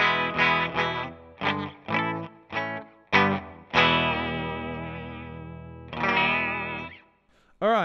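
A clean electric guitar run through a downsized pedalboard into a Vox AC15-style amp plays alone, with chords strummed in short rhythmic bursts and then a long ringing chord that fades out.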